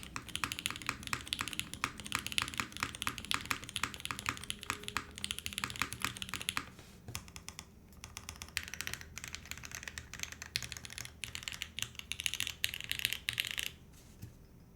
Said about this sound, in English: I love the way long pull switches sound in the mode boards.